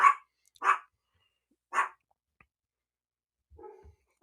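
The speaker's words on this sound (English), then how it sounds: "Sorry, my dogs are going crazy." Several dogs barking indoors in short separate bursts, three loud barks spaced apart followed by a quieter whine and low thump, with no talking over them.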